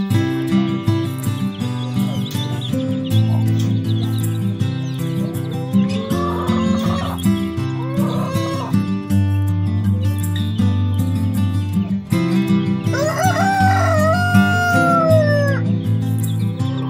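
Chickens at a local chicken expo, with roosters crowing in drawn-out calls and hens clucking, all over a dense, steady hum of crowd and hall noise.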